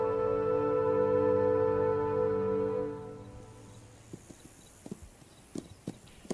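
A sustained droning tone fills the first half, then stops. After it come sparse, sharp hoof clops from wild horses walking on public rangeland, spaced irregularly and moderately close.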